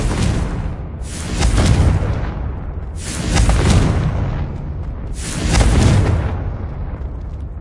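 Three loud blasts from the Confringo explosive spell in a video game, each a booming burst that swells and fades over about two seconds, evenly spaced with no talk.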